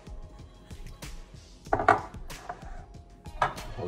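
A knife chops green onion on a cutting board in a home kitchen, with irregular knocking taps, a few louder clustered strikes, close and fairly quiet.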